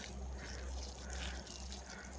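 Water is poured fast onto a large fire ant pile outdoors, a steady low splashing gush that keeps going throughout, fairly quiet.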